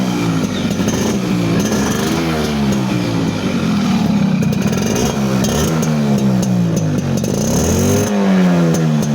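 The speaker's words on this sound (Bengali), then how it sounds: "তো সাউন্ডটা শোনাই 40 বছর আগেকার একটা বাইকের সাউন্ড" A 40-year-old Suzuki AX motorcycle runs close up, its engine loud and steady as it revs up and down in repeated swells, with no voices.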